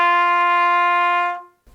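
A trumpet holds a single sustained high open G with no valves pressed, bright and steady for over a second before fading out, played alone.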